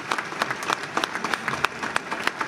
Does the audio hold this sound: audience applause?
yes